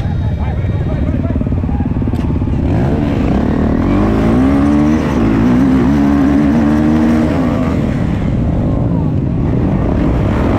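Motocross motorcycles idle and rev on the line at the start of an over-40 cross-country race heat, a loud continuous engine drone that rises and wavers over ten seconds while a voice talks over a loudspeaker.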